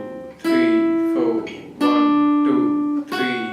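A guitar plays sustained notes, alternating between the root and third in slow, even strokes with no talking.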